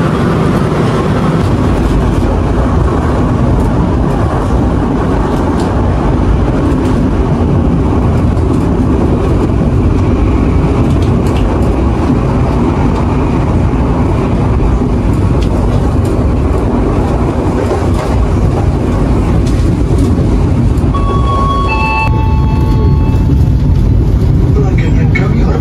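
Kamandaka passenger train rolling steadily along the rails near Slawi and Tegal, a continuous loud rumble of wheels and carriage noise with a brief high squeal near the end.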